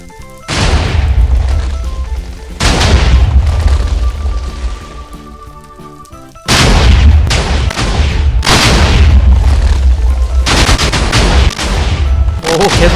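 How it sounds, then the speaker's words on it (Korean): Air strike TNT in a Minecraft mod goes off in repeated waves of loud, close explosions, dense rumbling barrages broken by brief lulls, each burst rolling for a couple of seconds. "다음은 에어 스트라이크 TNT를 터트려보자"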